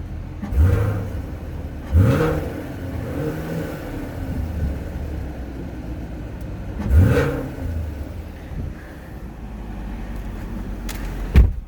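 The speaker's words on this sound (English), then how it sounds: "That was track mode exhaust rev." A 2019 Chevrolet Camaro SS revved in track mode: three separate throttle blips that rise sharply and fall back to a steady idle rumble, close and moderately loud, with no talking.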